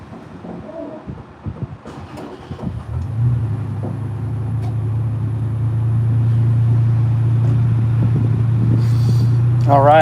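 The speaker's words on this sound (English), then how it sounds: "so sorry for the car noise" A car engine starts after some brief talk and handling noises outdoors, then settles into a steady, loud, low idle rumble that fills the rest of the clip.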